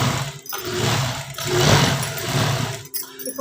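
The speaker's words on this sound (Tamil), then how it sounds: "இந்த மாதிரி 2 தையல் போட்டுக்கலாம்." An electric sewing machine stitching a princess cut blouse, running in a steady, loud mechanical whir with brief pauses and restarts between stitching runs, close up and without talk.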